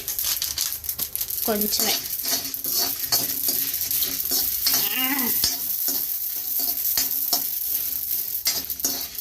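Cardamom, cinnamon, cloves and poppy seeds fry in hot oil with a steady, bright sizzle. Spoon clinks and scrapes sound through it, and a voice cuts in briefly.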